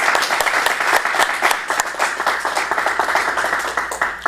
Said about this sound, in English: Let's give our Toastmaster a round of applause.